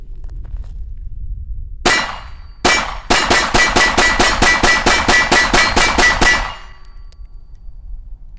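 A Smith & Wesson M&P handgun fires at steel targets about 10 yards away: two spaced shots, then a fast string of about a dozen sharp cracks with ringing metal clangs, loud and close, then quiet.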